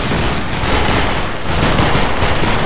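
A volley of massed musket fire on command in Battlegrounds 3 at a line battle event, a dense crackling wall of overlapping shots with rumbling echo, loud and continuous for a few seconds.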